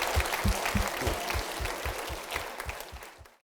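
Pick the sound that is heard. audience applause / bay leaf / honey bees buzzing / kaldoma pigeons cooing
audience applause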